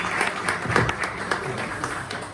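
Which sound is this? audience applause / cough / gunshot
audience applause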